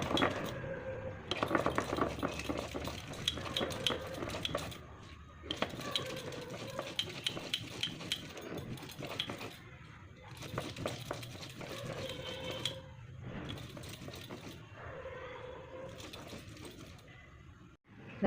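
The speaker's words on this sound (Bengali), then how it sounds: "মশলাটা পিষে নেই বাঁধাকপির জন্য।" Spices being ground for a cabbage dish, as a rough, rhythmic grinding and clattering that comes in repeated bursts with short pauses between them, close and steady.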